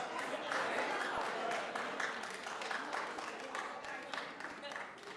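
Sustained applause fills a committee meeting room, a dense wash of many hands clapping at moderate distance that tapers slightly toward the end, with voices speaking over it.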